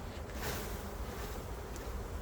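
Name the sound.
honeybees being shaken into a new hive box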